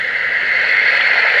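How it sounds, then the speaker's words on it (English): A sunrise alarm clock plays a steady water sound through its small speaker, an even, hissing wash with no talk over it. "Oh, that's like water."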